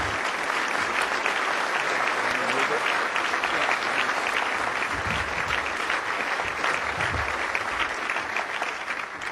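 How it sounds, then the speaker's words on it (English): A luncheon audience gives a warm round of applause for Ontario's Minister of Finance, a dense, sustained wash of many hands clapping that holds steady throughout and fades slightly at the close. "So I'd like to have you all join me in a warm round of applause"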